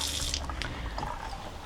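Water runs from an RV kitchen faucet once the pump builds pressure, a steady close splashing stream into the sink with drips and no one talking.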